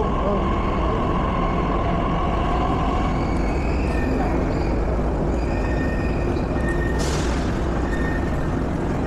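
A continuous loud rumble and rush of a metro train heading toward Ramwadi, heard from inside, with a high whine that fades partway through and a brief hiss near the end.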